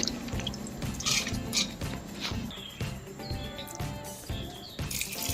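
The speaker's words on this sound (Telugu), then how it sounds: "ఇప్పుడు పప్పు ములిగేదాకా నీళ్ళు వేసుకుని" Water poured from a tap over soaked black gram dal in a pressure cooker in a home kitchen, a steady splashing run with dripping and small clatters, close and moderately loud, no talk.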